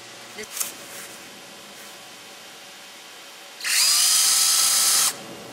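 A power drill whirs loudly for just over a second after a quiet stretch with a couple of faint knocks.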